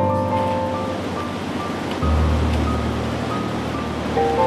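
Super Typhoon Odette's winds roar steadily against a building, a dense rushing howl with a heavier gust surging in midway, loud and unbroken.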